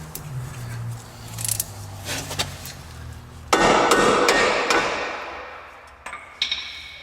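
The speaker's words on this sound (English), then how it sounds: "I think I'm gonna have to tap it a few times to get it to seat in fully" Sharp metallic hammer taps on a part of a 2002 Ford Focus during clutch replacement, one strong ringing strike midway and a quick pair near the end, with a few lighter clinks before, alone with no talk.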